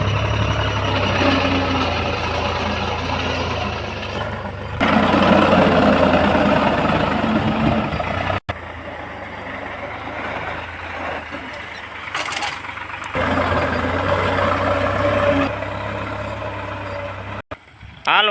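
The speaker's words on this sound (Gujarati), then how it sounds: "મિત્રો તો જો ટ્રેક્ટર ખેડવા આવ્યું છે" A tractor ploughs a field with a heavy, low engine rumble that swells and eases in several sections and drops briefly, while voices come and go in the background.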